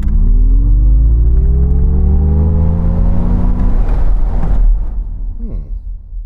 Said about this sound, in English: Launch control mode is activated.